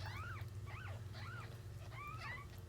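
Newborn kittens mewing, several thin high-pitched cries in quick succession, close by over a steady low background hum.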